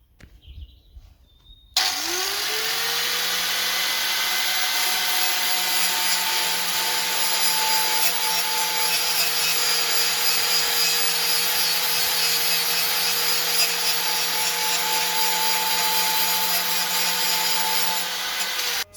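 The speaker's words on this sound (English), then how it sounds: "I'm just going to grind off these little excess bits at the end here" Angle grinder grinding small excess metal bits off the end of an armored car visor plate on an Sdkfz 223, starting after a brief quiet moment and then running as a loud, steady whine for the rest of the clip.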